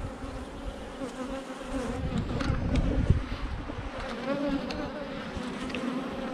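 Honeybees buzz around outdoor hives in a breezy setting, a dense continuous hum of many insects that swells in the middle, with wind noise and a brief spoken word.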